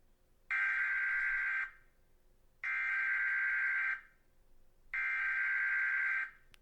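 Three long, loud electronic buzzes of a high school fire alarm, each harsh steady blare lasting about a second, separated by short gaps of near silence, with no voices.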